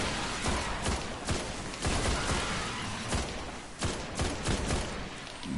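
The Dragon's Breath exotic rocket launcher firing in Destiny, heard as a dense run of blasts and crackling bursts that keeps going throughout with no talking.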